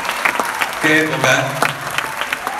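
A brief burst of audience applause for a singer during a tribute show in Tucumán. It is short and lively and blends with a voice and musical notes.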